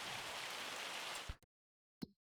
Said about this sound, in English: Well, that's hail.